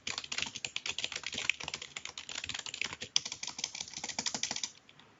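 Steady, fast typing on a computer keyboard while writing text for LaTeX beamer presentation slides, a dense run of close, crisp key clicks that stops just before the end, with no talking.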